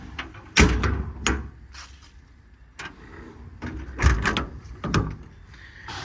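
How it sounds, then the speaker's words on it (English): Doors and drawers on the service body of a 2020 Ford F550 4WD diesel mechanics truck clunk and slide open, several sharp knocks and latch thumps spaced irregularly with quieter metallic rattles between, close by. "push the door open just a little bit to open these top 3 drawers"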